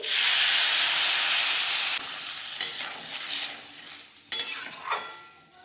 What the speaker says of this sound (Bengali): সব কিছু খুব ভালো করে কষিয়ে নিয়েছি, এবার আমি জল দিয়ে দিচ্ছি